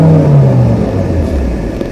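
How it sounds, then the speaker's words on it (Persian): Car engine being revved hard, a loud close roar with a falling-pitch drone that dips and settles into a deep rumbling idle. "این الان نشسته پشت ماشین من و ماشین منه و داره موتور رو جر میده"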